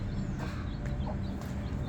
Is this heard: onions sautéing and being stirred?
no